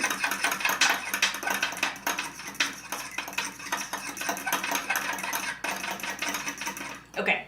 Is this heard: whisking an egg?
yes